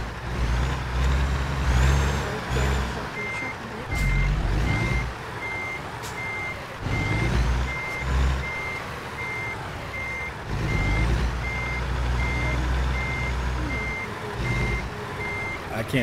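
A large truck's reversing alarm beeps steadily and repeatedly over a loud, rumbling diesel engine, with a hiss of air brakes partway through, in the video game American Truck Simulator.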